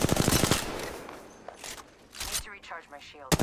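Gunfire crackles in an Apex Legends squad fight as a fast, close burst opens the moment and another sharp volley breaks out at the end.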